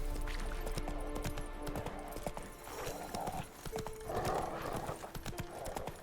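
Horse hooves clip-clop steadily on the ground in The Witcher 3: Wild Hunt, a clear rhythmic trotting gait near and upfront, joined by a brief whinny and light game ambience.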